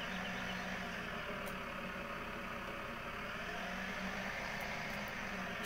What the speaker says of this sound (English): This tractor's really struggling.